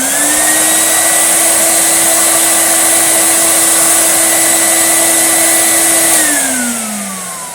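A 1992 Numatic George GVE370 vacuum cleaner motor runs with a loud, steady, high-pitched whine, close by, then winds down as it switches off near the end.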